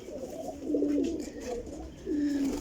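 Pigeons coo softly in their coop, two or three low throaty coos rising over faint background rustle, close by and quiet, with no talking.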